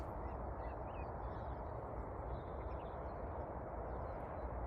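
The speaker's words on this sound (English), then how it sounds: "So good to hear the call of birds after winter." Faint bird calls, including a few harsh caws, sound in the distance over a loud, steady rumble of wind or outdoor noise.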